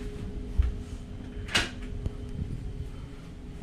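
A cabin drawer on a cargo ship slides and knocks with a few short, faint thumps and one sharper clack over a steady low ship hum.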